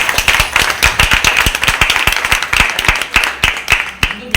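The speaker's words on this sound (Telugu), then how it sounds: "ఈరోజు మీకోసం మీరు గట్టిగా చప్పట్లు కొట్టుకోండి." A crowd of women at a tailoring-course graduation ceremony claps loudly and energetically, a fast, close run of distinct hand strikes that thins out and fades near the end.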